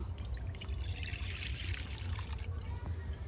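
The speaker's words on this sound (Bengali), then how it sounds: "যে লিকুইড দুধটা নিয়েছিলাম দিয়ে দিচ্ছি।" Liquid milk poured into a wok of water, a continuous soft trickling pour, fairly quiet and close.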